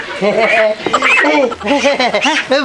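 Chickens cluck and chatter nearby in rapid overlapping calls, with a voice speaking among them.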